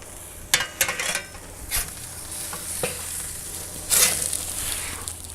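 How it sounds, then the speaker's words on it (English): A metal pizza pan, used as a giant spatula, scrapes and clanks against a Weber Performer kettle grill as it lifts salmon off, a few sharp metallic scrapes over a steady background sizzle, close and fairly loud. "I'm gonna use this pizza pan as my giant spatula to take the salmon off"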